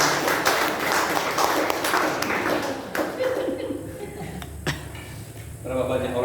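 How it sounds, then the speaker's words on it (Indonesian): Church congregation clapping in a worship service, a burst of brisk, scattered handclaps that thins out into a few lingering taps and rings near the end. "Tepuk tangan untuk saya dulu."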